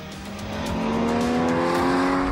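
A Porsche Cayman GTS mid-engine sports car accelerates hard on the Circuit Mallorca racetrack, engine pitch climbing in a loud rising whine as it speeds past close by.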